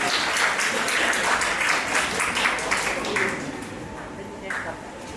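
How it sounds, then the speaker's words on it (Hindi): An audience claps loudly at a student speech competition event, dense applause filling the room, then easing off as a speaker's voice comes through. "उनके लिए भी आप एक बार जोरदार तालियां बजा दीजिए"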